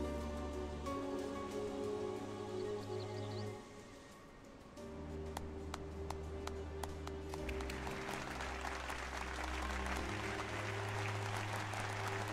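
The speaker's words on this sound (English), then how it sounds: "I love that they clap like that." Synthetic applause from a video game rises over steady game music, fading briefly before returning with dense clapping that continues to the end.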